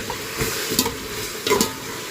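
Onions and chillies frying in a pan, stirred with a few scraping strokes over a steady close sizzle, with louder stirring bursts near the start and again later.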